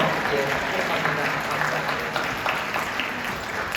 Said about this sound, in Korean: 우리 서로 격려하며 박수하실 텐데요